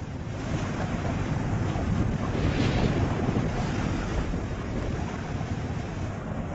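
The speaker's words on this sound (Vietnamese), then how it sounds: "Nước Tro đủ dạng chảy xiết, tiếng ầm ầm tạo cảm giác rần rần." Roaring, rushing water of a vast river in an animated Buddhist film, a steady loud broadband wash of surf-like noise that continues without a break and with no voices.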